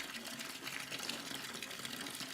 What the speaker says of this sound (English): The bath filled with clear hot water.